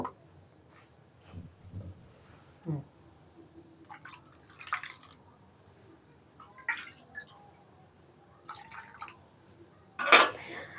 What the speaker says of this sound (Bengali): এর মধ্যে আরো পানি দেব।